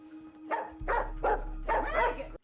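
A dog on screen during the Agatha All Along episode barks four times in a steady rhythm, each bark loud and close, over a faint constant tone.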